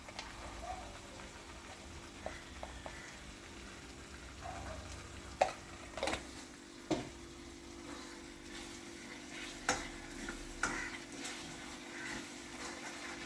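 Thick lehyam of dates, jaggery and small onions is stirred in a pan, a quiet bubbling sizzle with intermittent scrapes and knocks of the spoon against the pan, faint and steady.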